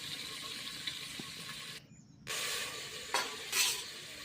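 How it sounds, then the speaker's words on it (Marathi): Chicken stir-fries in hot oil with turmeric and salt, giving a soft sizzle with scraping spatula strokes and a brief quiet gap before louder stirring resumes. "चिकन छान तेलामध्ये परतून घ्यायचं एकदा"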